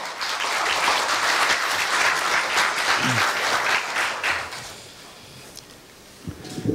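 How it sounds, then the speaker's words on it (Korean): Audience at a university staff retirement ceremony applauding warmly, a steady wash of clapping that fades out over the last couple of seconds, followed by faint handling noises. "따뜻한 박수로 염재호 총장님을 맞이하여 주시기 바랍니다"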